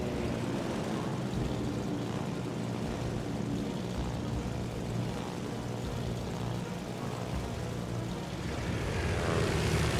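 Carrier aircraft engines drone steadily in World of Warships Legends, a continuous propeller hum with a broad roar that holds level throughout.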